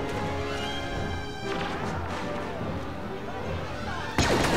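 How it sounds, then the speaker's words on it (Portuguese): A blast goes off in a Star Wars: Battlefront match, one heavy explosion bursting out loudly near the end over a dense rumble of ongoing battle noise, with talk mixed in. "Nossa senhora, explodiu, explodiu."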